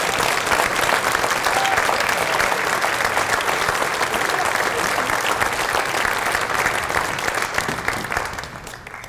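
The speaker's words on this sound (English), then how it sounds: "let's give them a round of applause" An audience at a high school Hall of Fame induction ceremony applauds former honorees, a loud, steady wash of many hands that holds for several seconds before thinning out at the end.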